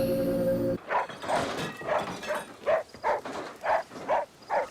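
Dog in a TV show barking and whimpering in a steady series of about nine short yelps, fairly close and loud, after a brief burst of other show audio at the start.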